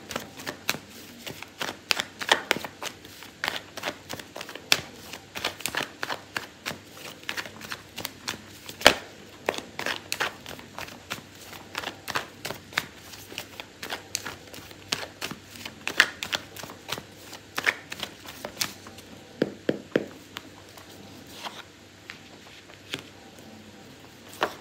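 Tarot cards are shuffled by hand for a while, a steady run of quick riffling snaps and soft card flutters, close and clear with no talking.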